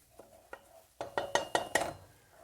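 A roux of flour and fat being stirred in a pan for a cheese and onion potato bake, several quick scraping strokes speeding into a rhythmic run, close and fairly quiet, with no talking.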